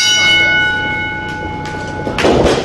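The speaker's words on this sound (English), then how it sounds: "Well, there's the bell, and this one's underway." A wrestling ring bell rings to start a match at an independent wrestling show, a sustained bright metallic tone that slowly decays, followed by a burst of crowd and arena noise.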